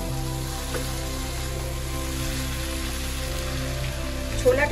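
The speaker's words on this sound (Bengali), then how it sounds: "এবার আমি এর মধ্যে ছোলাটা দিয়ে দেবো ছোলাটা দিয়ে ভালো করে একটু নাড়াচাড়া করে নেবো" Boiled chickpeas stirred into fried masala in a pan give a steady, even sizzle like rain on a surface, constant and fairly close, with a brief scrape near the end.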